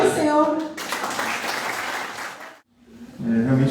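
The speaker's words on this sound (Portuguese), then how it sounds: "Aplauda o Senhor." Church congregation at a youth-led service breaks into loud applause for about two and a half seconds, then briefly falls silent before clapping and voices pick up again.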